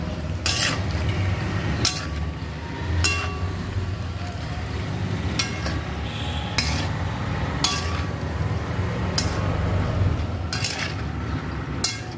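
A masala macaroni pasta gets stirred in a pan with a spoon, giving a run of sharp metallic clinks and scrapes that recur every second or two over a low, steady cooking hiss.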